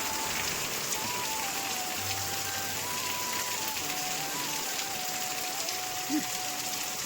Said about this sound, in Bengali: তো দেখো বৃষ্টিটা অবশেষে এলো